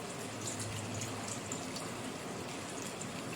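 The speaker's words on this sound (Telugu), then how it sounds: "ఇలా తెల్లగా వచ్చే వరకు మటను కడిగి" Mutton pieces are washed in a bowl of water, producing a continuous soft splashing and trickling wash of water, steady and fairly faint throughout.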